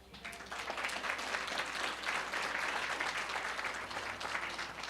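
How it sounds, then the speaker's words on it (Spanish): A crowd breaks into dense, steady applause that swells quickly and holds for several seconds, sounding like a large audience at a distance. "Denle un aplauso."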